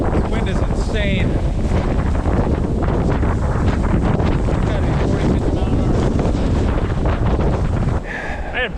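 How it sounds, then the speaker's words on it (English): Strong wind roars and buffets the microphone outdoors among trees, loud and continuous, with a voice speaking over it. "Wow, the wind is insane."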